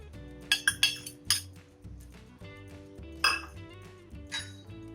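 A spoon clinking against a metal pot while powdered milk is stirred into cold milk off the heat, giving several bright metallic taps in short bursts, close and fairly quiet.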